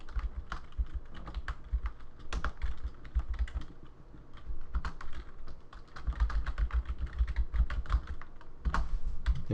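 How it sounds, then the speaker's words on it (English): Someone types on a computer keyboard in close, continuous bursts of fast clicking keystrokes with brief pauses between words; no talking. "So let me just type that here."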